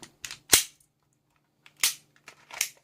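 A Glock 19 Gen4 pistol's slide stop releases the slide, producing a sharp, close metallic snap, followed by a few lighter mechanical clicks and clacks of handling in a quiet room.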